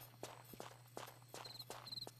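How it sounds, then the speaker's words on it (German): Footsteps in the video game Tomb Raider III, in the Nevada desert level, tread in a steady rhythm of about eight distinct steps over a constant low game hum, with faint high electronic chirps. "Ich kann Schritte hören."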